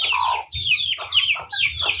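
Large farm chicks and hens on a rural farm make a noisy mix of shrill peeping and chirping close by, over low clucking and scratchy background rustle.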